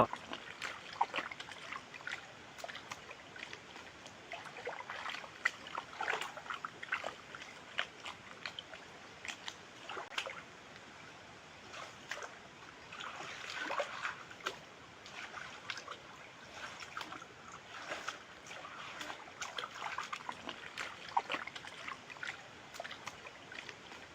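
Water flowing out of a drained fish pond: a continuous faint trickling and gurgling that holds steady for over twenty seconds, with no voices.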